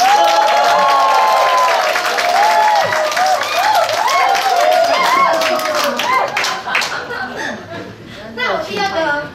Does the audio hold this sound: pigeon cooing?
no